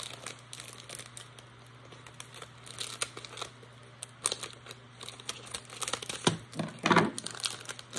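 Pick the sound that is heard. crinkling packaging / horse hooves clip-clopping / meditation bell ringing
crinkling packaging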